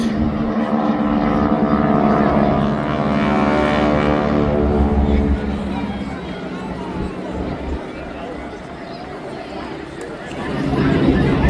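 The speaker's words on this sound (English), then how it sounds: "Watch as they pitch the aircraft up and do the B-take." Red Arrows jets at the Blackpool Airshow 2025 roar past loudly with a falling engine pitch, fading to a distant rumble before swelling again, while voices talk nearby.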